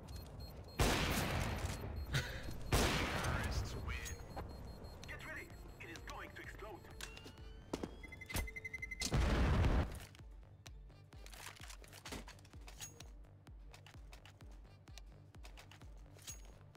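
Gunfire in Counter-Strike: Global Offensive during a competitive match, with loud bursts of shots around the first few seconds and again near the tenth second, mixed with game effects and talk over the action.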